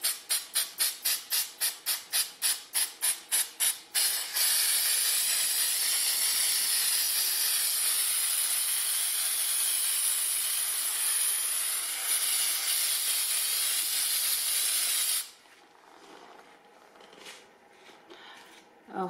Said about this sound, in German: im Abstand von 30 bis 40 cm die Tannenzapfen besprühen